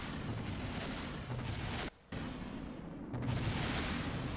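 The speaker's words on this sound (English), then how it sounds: "Yeah, we are blowing up. Yep, the rocket is gone." Rocket exploding in Kerbal Space Program, a continuous roaring, crackling blast of noise with a brief dropout, then swelling again, loud and close throughout.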